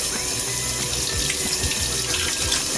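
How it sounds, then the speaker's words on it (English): Tap water runs steadily into a sink as vegetables are rinsed under it, a continuous close splashing hiss with small shifts as the produce is moved through the stream. "you just need to run it in water"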